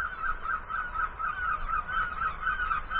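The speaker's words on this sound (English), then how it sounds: "all the seagulls have gone absolutely mental" Birds call continuously in a raucous, overlapping chorus of honking cries, loud and sustained throughout.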